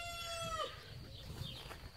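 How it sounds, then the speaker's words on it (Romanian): A Brahma rooster and his hens make short clucking and fowl calls in a farmyard coop, close to the listener and moderately loud, over a low background rumble. "Aici avem cocoșul de Brahma Bobat și găinușele lui"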